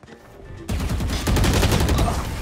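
Rapid gunfire in the tactical shooter Valorant, a quiet lead-in giving way to a loud, dense burst of close shots that continues and intensifies to the end with no talk over it.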